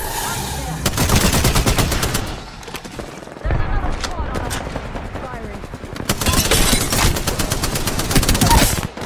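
Rapid automatic gunfire from the Apex Legends video game, loud sustained bursts of shots with short gaps, mixed with game effects and occasional speech.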